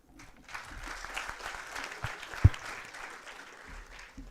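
An audience claps at an academic talk, a soft, steady patter of applause with a single sharper clap near the middle, heard from some distance without speech over it.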